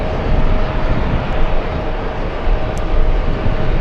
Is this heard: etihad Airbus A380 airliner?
yes